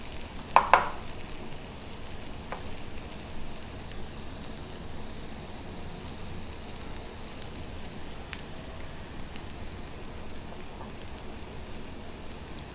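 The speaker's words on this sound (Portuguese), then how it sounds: "Refogo a cebola," Onion sautéing in a little oil in a pan at home, giving a steady soft sizzle throughout, with a couple of brief clinks near the start and no talking.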